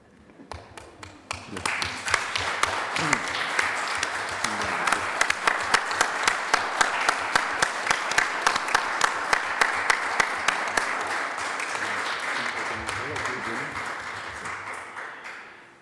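Audience applause following a poetry reading, a dense wash of many hands clapping that swells quickly, holds steady for over ten seconds, then thins and fades out.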